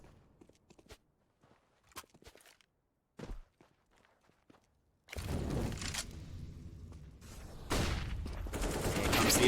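AK rifle gunfire in Counter-Strike on the Dust 2 map during a competitive match: scattered faint footsteps and isolated shots first, then loud sustained bursts of automatic fire filling the second half, with a commentator's voice faintly underneath.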